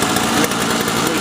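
A Toro single-stage snowblower with an R-Tek 2-stroke engine runs close by, a loud, steady, high-pitched buzzing whine for about a second, with a voice speaking over it.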